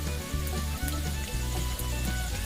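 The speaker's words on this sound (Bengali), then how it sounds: "আলু ভেজে নেবো" Potatoes fry in oil over a wood fire in a village kitchen, giving a steady close sizzle with soft bubbling and occasional stirring scrapes, no talk.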